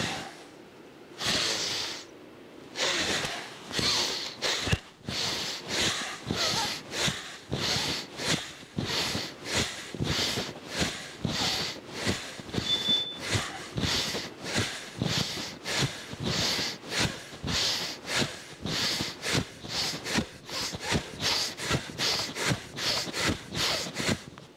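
Forceful pranayama breathing, the rapid rhythmic exhalations of a yoga breathing exercise, sharp hissing puffs through the nose that start slower and speed into a steady fast pulse, close and loud.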